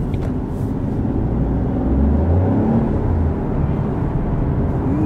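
A 2025 Alfa Romeo Junior Speciale with a 1.2-litre 136 hp engine cruises along a road, its steady low engine and road rumble heard from inside the cabin, with a slight swell midway and no talking.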